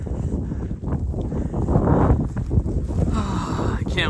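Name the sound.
wind blowing against the microphone while walking in snow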